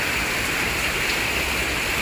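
Steady rain pours down outdoors near a parked car, a dense, continuous hiss that stays even and fairly loud throughout with no voices.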